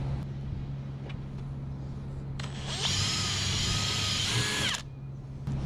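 Power drill widening bolt holes in a Scotty 241 mount deck, a steady background hum rising into a loud, close whining drill burst of about two seconds, then stopping.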